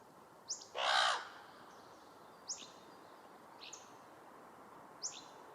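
A crow calls from nearby outdoors: four short, sharp caws spaced about two seconds apart, with one louder, longer burst of scratchy noise near the start, over a quiet background.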